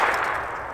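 A jacketed hollow-point 17 HMR bullet strikes an armor target, giving one sharp metallic clang that rings and fades over a moment.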